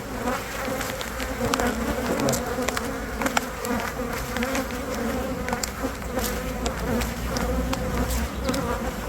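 Honey bees buzz loudly around an open hive during an inspection. A dense, close swarm drones continuously, with individual bees whining past the microphone, and no one speaks.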